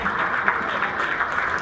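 Audience applause at a Hindi poetry recital, a kavi sammelan in Pune: a dense, steady wash of clapping from a large crowd, sustained and fairly loud throughout the short stretch.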